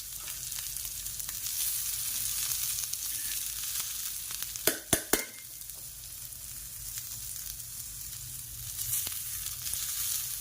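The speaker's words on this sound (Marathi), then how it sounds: "याच्यामध्ये आपण खोबरा कांदा हे आपण फ्राय करून घेऊया" Dried coconut and onion frying in a little oil in a pan, a steady close sizzle with a few sharp knocks of a utensil midway, no talking.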